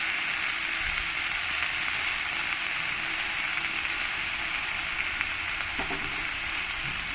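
Spinach dropped into a hot pan of garlic, a steady loud broadband sizzle hissing continuously with faint stirring scrapes and no voices.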